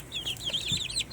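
An Easter egger chick, a blue-to-green egg-laying breed also called Americana, peeps: a rapid run of high, thin chirps, close and fairly loud, lasting about a second.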